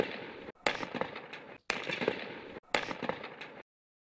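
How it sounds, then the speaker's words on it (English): Gunshots recorded at a Nakba Day protest ring out as three loud, sharp crackling bursts separated by brief silences, each cutting off abruptly, with no voices. "gunshot that killed Mohammad Abu Daher, the Palestinian TV crew captured four other gunshots on that day."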